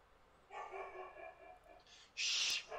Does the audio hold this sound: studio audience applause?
no